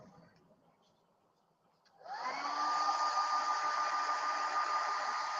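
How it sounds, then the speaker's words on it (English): A hair dryer switches on after a quiet start and blows steadily with a loud, constant whirring hum and a rising motor whine. "Use an old hair dryer, but I push the button."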